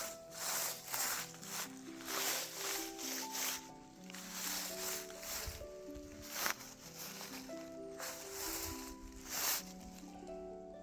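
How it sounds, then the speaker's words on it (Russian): Dry fallen autumn leaves crunch and rustle in uneven bursts in a village setting, close and soft, with a gentle melodic music track playing underneath. "звук опавшей листвы — это тоже особое удовольствие."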